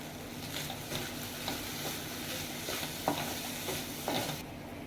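Curry leaves sizzle and crackle in hot oil while a spoon stirs steadily, with a constant frying hiss and several sharper spattering bursts, close and alone with no talking.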